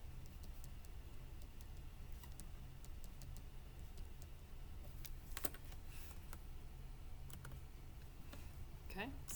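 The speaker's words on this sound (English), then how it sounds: "So let's go back to Desmos and just type those equations in." Equations are typed into Desmos on a computer keyboard as faint, scattered keystroke clicks, sparse then briefly quicker, over a steady low hum.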